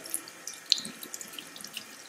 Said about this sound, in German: Und das mache ich dann wieder alles sauber mit fließendem Wasser